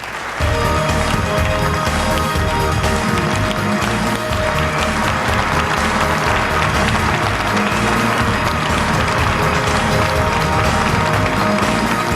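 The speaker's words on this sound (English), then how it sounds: "give her a great big applause for Janet Guthrie" Loud, sustained audience applause fills a large hall at an International Motorsports Hall of Fame induction ceremony honoring racing driver Janet Guthrie, dense and continuous with music-like tones running underneath throughout.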